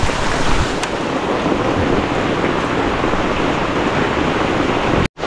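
Heavy rain pours steadily on a hut in a dense, loud roar that barely changes, cutting off abruptly near the end.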